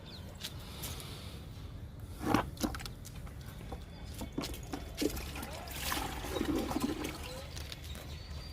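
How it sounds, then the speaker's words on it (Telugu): Groundnut cake liquid fertilizer is poured onto a potted lemon plant, a quiet, close trickle and splash that comes in uneven bursts over several seconds. "ఫస్ట్ డబ్బాలు పోస్తున్నా ఇప్పుడు మొక్కకి ఇస్తున్నా"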